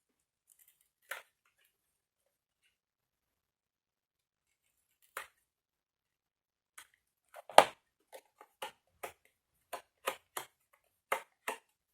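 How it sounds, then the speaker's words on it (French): Scissors cutting a paper cover close to the edge: sparse, crisp snips at first, then a quicker run of a dozen short, sharp cuts in a quiet room, with no talk. "vais peut-être découper toute ma couverture bien à ras"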